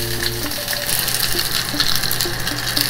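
Pork belly cubes searing in hot oil in a pan for soy-sauce braised kakuni, giving a steady, loud, close sizzle and crackle that runs unbroken with no talking.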